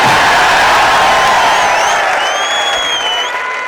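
Audience applause and cheering at a mushaira poetry gathering in Bhopal, a dense wash of clapping from a large crowd with whistles and whoops, loud and continuous, gradually thinning toward the end.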